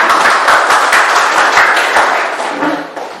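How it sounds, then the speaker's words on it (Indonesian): Classroom of pupils clapping for one another after being told to sit, a dense, steady round of applause close by that thins out and fades toward the end. "tepuk tangan buat kita semua"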